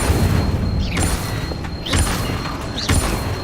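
The Incendio fire spell cast in Hogwarts Legacy, with three loud whooshing, booming bursts roughly a second apart over rumbling game ambience.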